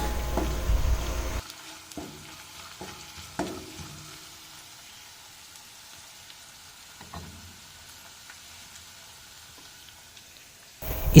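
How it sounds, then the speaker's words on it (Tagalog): Onion, garlic, ginger and gourmet tuyo (dried fish) sautéing in hot cooking oil, a steady soft sizzle with a few sharp spatula scrapes and clicks, louder in the opening moments then settling into a quiet background fry. "At nakapaggisa na tayo ng sibuyas, bawang, luya at sinama ko ng ating gourmet tuyo."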